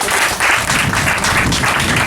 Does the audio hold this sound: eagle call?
no